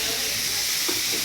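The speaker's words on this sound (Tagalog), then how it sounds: "Ayan, siya nagpiprito." Food sizzling in a frying pan in a home kitchen, a steady broadband hiss that runs without a break for the whole moment with small pops and crackles.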